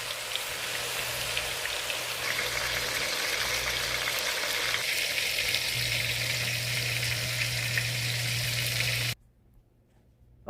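Homemade turkey sausages fry in a pan, giving a loud, steady crackling sizzle like rain on a surface that continues for about nine seconds and then cuts off abruptly into near silence.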